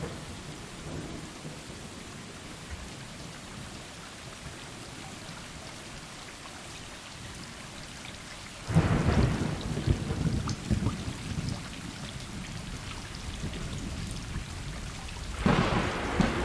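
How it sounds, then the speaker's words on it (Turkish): Steady heavy rain pours throughout in the video game Stray, broken by two deep rumbling thunderclaps, one midway and another near the end. "yağmur yağıyor"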